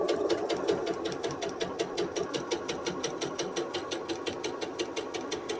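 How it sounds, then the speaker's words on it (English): A home sewing machine stitches a straight seam down one side of a quilt square, its needle running in a steady, fast mechanical rhythm of close, even clicks with a low motor hum throughout. "I'm going to go ahead and sew straight down the one side of my square"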